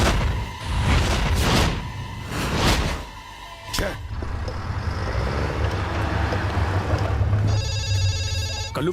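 A telephone ringtone starts partway through and rings steadily to the end in a dubbed South Indian action movie scene, heard over street and traffic noise after voices and swooshing effects at the start.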